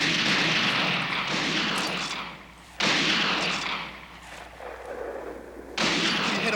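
Gunfire rings out in a Western shootout: three heavy bursts of shots with long, fading echoes, loud and close, with no talk over them.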